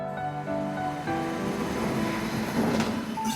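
Riding a train toward Sealdah, the carriage gives off a steady rumbling roar with a low droning hum, moderately loud and continuous, with no talking.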